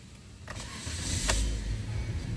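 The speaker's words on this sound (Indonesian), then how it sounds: "Mari kita coba hidupkan mesin terlebih dahulu." A Toyota Sienta with a newly replaced AC water pump starts up: a short cranking whir, then the engine catching into a low, rough rumble, recorded up close.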